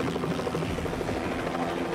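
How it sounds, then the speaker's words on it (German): Helicopter in the video game Hitman, set in Hokkaido, flying away with a loud, steady rotor chop that fills the brief moment, no voices over it. "Ich fliege einfach mit dem Hubschrauber davon."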